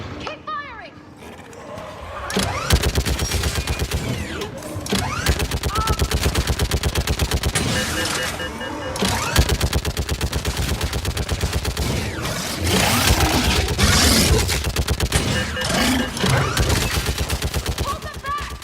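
Sustained automatic gunfire from a Mass Effect 3 battle, rapid bursts of shots rattling loudly and almost without pause from a few seconds in, mixed with booming impacts and shouted voices over the fighting.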